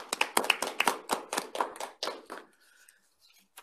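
A few people clapping at an academic policy seminar: a brief run of sharp, separate claps at moderate distance that thins out and stops after about two and a half seconds, leaving quiet.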